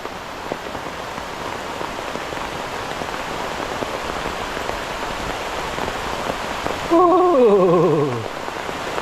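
Heavy rain pouring steadily on a surface during a fishing trip in Kerala, a dense hiss throughout, with a brief descending whistle-like tone near the end.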